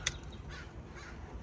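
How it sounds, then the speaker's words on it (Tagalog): A single crow caws a few times at moderate distance, brief harsh calls over a quiet background. "Di ba uwak tawag natin dyan?"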